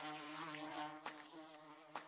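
Bees buzz in the VR game Gorilla Tag, a steady insect drone over a harmonic tone, with two brief sharp bursts near the end.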